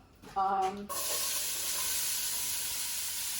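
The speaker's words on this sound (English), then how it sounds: "I'm going to now start to cook the onions and the garlic in the same pot" Onions and garlic hit oil in a pot for a beef stew, with bacon bits stuck on the bottom; after a brief voice, a steady, close hiss of frying takes over and keeps sizzling evenly.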